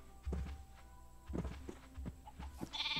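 Sheep in the Minecraft video game let out several short bleats, interspersed with soft thunks and footsteps, all fairly quiet and close.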